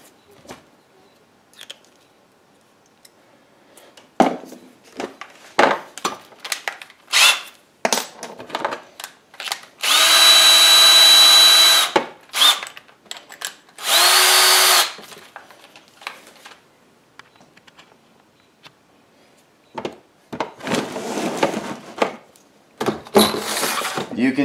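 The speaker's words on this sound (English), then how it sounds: "put our barrel trimmer inside the drill and use our drill press vise to hold the blank while we trim up the end" Barrel trimmer spinning in a drill press, cutting the end of a wooden pen blank held in a drill press vise; two loud sustained grinding bursts of a few seconds each, separated and surrounded by clunks and handling knocks.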